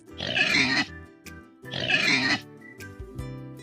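Two loud, close pig grunts, each a dense noisy burst under a second long, separated by a short pause, with a brief quieter tone trailing at the end.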